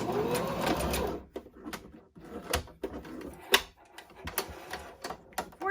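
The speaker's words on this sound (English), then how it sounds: "Back stitch at the opening" Sewing machine back stitching at the opening of a boho tote bag, heard as short bursts of mechanical stitching separated by pauses, with clicks and rattles between runs.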